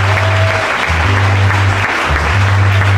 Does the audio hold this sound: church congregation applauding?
yes